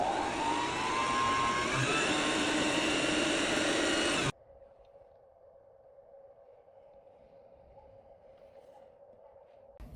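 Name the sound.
sewing a ribbon into a book sleeve liner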